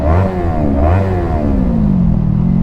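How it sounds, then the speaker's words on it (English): A Yamaha R3 sport motorcycle revs hard on the freeway, its engine pitch climbing and dropping through repeated throttle blips, loud and close with steady wind rush underneath. "We gotta get a little rev for him on the freeway"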